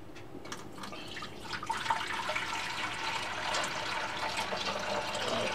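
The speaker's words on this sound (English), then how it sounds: "Fill it up this way, even if I spill the water all over the place" Water pours into a container, splashing and gurgling as it fills, a bright rushing stream that grows fuller and louder toward the end.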